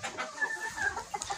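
Desi hens clucking softly in short murmuring calls, fairly faint and close, with no talk.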